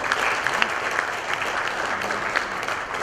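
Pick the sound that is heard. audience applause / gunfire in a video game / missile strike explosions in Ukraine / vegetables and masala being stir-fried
audience applause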